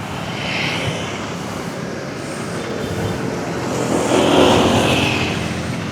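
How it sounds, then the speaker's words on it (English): A small motorbike or scooter engine in a Bali village, low on petrol, runs roughly in a continuous broadband drone that swells louder toward the end, with no voices. "it was coughing and spluttering, and it hadn't quite fully run out of petrol yet"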